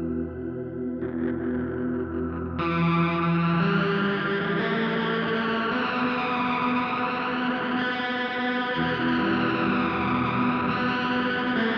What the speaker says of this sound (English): He says he's added a bit of reverb in GarageBand to give it a bit more stereo-ness